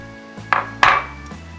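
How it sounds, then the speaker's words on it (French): A spoon knocks and scrapes in a pan as flour is stirred into choux pastry dough with melted butter, giving two or three brief close clunks over a quiet background. "Remuez bien jusqu'à ce que la pâte forme une boule."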